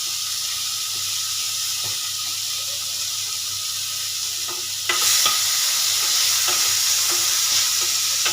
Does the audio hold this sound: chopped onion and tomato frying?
yes